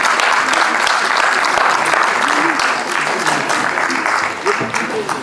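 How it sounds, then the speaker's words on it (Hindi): A theatre workshop audience gives loud, sustained applause to welcome a guest, clapping densely throughout and easing slightly toward the end, with faint voices mixed in underneath. "जोरदार तालियां जनाब सईद हुमायूं कैसर साहब के लिए"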